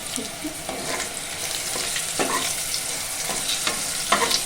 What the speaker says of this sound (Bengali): ওই একই তেলের মধ্যে আমি পটলগুলোকেও দিয়ে দেবো।